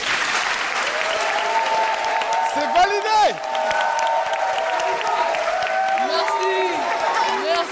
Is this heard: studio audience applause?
yes